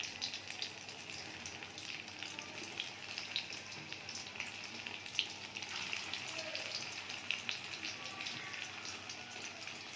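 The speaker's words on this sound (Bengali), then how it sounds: "এবারে ডিমগুলো ভেজে নেব" Eggs fry in hot oil in a kadai with a continuous, moderately loud sizzle and crackle, with scattered pops throughout and no voices.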